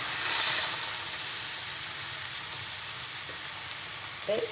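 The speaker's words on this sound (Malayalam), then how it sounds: "പഞ്ചസാര ഇട്ട് വെച്ചിരിക്കുന്ന പാലൊന്ന് ഒഴിച്ചു കൊടുക്കുക" A banana bread roast frying in a pan as sugared milk is added, making a steady, even hiss of sizzling with faint occasional ticks.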